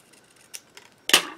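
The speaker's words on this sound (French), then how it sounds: "vous prenez les ciseaux, vous coupez." Scissors cut through folded paper for an origami star, a few faint snips followed by one sharper, louder cut near the end, all within under two seconds.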